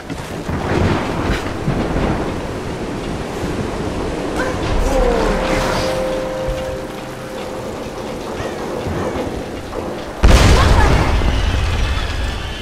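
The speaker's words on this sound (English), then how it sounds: "Really? Lightning?" In the Tomb Raider video game, wind and rumbling ambience build under a storm before a sudden loud lightning crack and thunder boom near the end, followed by a lingering rumble.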